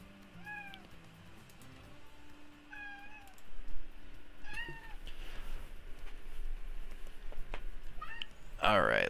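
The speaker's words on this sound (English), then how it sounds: "I'm sure you can hear my cat." A pet cat meows several times indoors, short rising cries spaced a few seconds apart while someone talks nearby during a gaming stream.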